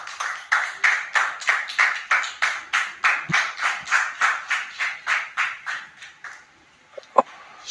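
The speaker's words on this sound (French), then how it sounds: "Et je vous demande de le recevoir avec vos applaudissements, très cher public" A studio audience claps in a steady, rhythmic unison beat for about six seconds, loud and close, before the clapping fades into quiet with a couple of stray taps.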